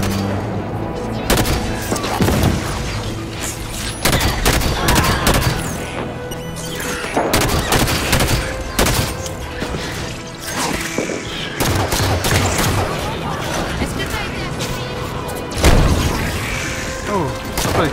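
Gunfire in the video game Halo 5, with repeated bursts of shots, crashes and booms in a busy firefight that stays dense throughout.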